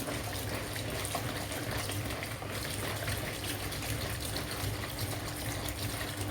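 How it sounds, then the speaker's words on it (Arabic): Water runs from a gently opened tap as a continuous soft rushing, steady and unbroken at moderate-low level throughout. "بفتح الحنفيه كده بالراحه وانا مش بعلي الميه ولا حاجه"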